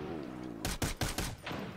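M16 rifle fire in the video game America's Army: a quick burst of four or five close, punchy shots in under a second, following a brief low hum.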